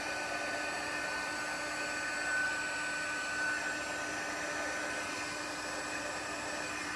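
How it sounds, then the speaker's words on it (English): Heat embossing tool blowing hot air onto copper embossing powder on a Christmas card, a steady close whooshing hum that holds evenly throughout without pause. "And then get my heat tool, heat it up a little bit."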